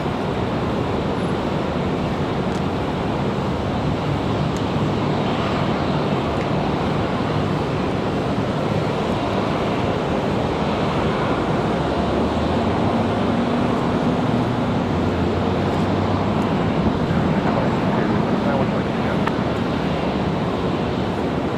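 Airplane taking off from a runway at Raleigh Durham International Airport, heard as a steady, loud, broadband jet roar with low rumble and gusting wind noise sustained throughout, with no talk.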